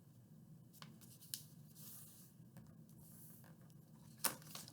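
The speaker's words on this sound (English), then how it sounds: "And last sheet, again, I'm going to fold this back." A sheet of paper is folded back by hand, giving a few soft, faint rustles and crinkles with one sharper crisp crease near the end, in a quiet room.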